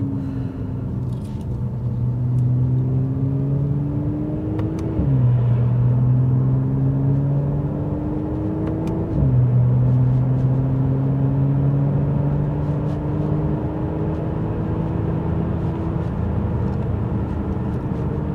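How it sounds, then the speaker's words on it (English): A car engine with an ASR module runs at low RPM after a downshift. A steady low drone dips twice as gears change, then settles into a smooth rumble while the car cruises along an empty road. "Just downshifting, see if we can get the RPM even lower while we've got no traffic."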